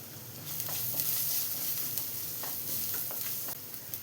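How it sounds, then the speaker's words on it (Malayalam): Onions, crushed ginger and turmeric sizzle and fry in a pan, with steady crackling under close stirring scrapes and no talk. "ഒരു ചെറിയ പീസ് ഇഞ്ചി ചതച്ച് വെച്ചതും കൂടെ ചേർത്ത് കൊടുക്കണം. ഇതെല്ലാം കൂടെ ഒന്ന് വഴച്ചെടുക്കാം."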